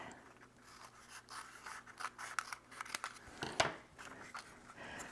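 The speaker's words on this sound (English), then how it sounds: "Pull it together, snip the end." Scissors snip the end of a folded paper Valentine rosette, giving a few crisp cuts among soft paper rustling and crinkling, close and fairly quiet.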